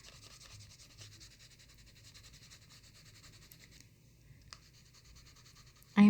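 Neocolor II wax pastel crayon rubbing quickly across paper in steady, close scratchy strokes, continuous and fairly quiet, with a brief louder knock at the very end.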